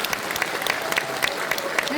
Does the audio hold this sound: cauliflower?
no